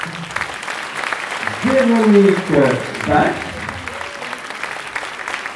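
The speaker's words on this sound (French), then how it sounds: "que je vous demande d'applaudir" A concert audience claps steadily through an end-of-course concert by a flute class, a continuous wash of applause under a single announcer's voice.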